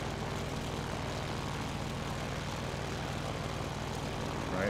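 Aircraft engine at full throttle in MS Flight Simulator, a steady, loud propeller drone that holds level without pause and swells slightly at the end, with no talking.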